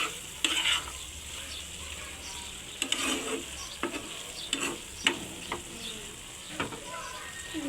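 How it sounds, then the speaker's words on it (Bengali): Chickpeas and tomato cooking in a pan are stirred with a utensil, making repeated scraping strokes over a steady sizzle, loud and close. "এখন আমি ভালো মতো নেড়ে চেড়ে এটাকে আবার ঢাকনা দিয়ে চুলার আঁচটা কমিয়ে দিয়ে রাখবো"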